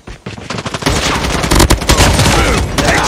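Rapid automatic gunfire in a Call of Duty Mobile multiplayer match, loud and continuous bursts of shots layered over game effects for about three seconds.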